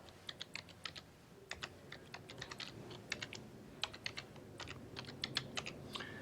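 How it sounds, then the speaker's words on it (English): A username being typed on a computer keyboard, with quiet, close keystrokes clicking in quick irregular bursts with short pauses between, no speech. "I'm going to type in a username. And you have to type it in again."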